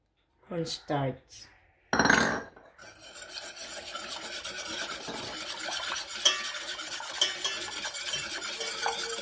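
A spoon stirs a sugar and cornstarch mixture cooking in a pan for a black forest cake, giving a steady scraping and sloshing that grows busier, after a brief spoken line at the start.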